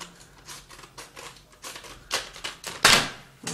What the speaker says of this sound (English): take your amazing scissors, open up the Corsair RAM